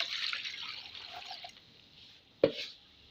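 A small amount of water is poured onto an etched circuit board, a soft hissing trickle that fades out, followed by a single distinct drip or splash near the end.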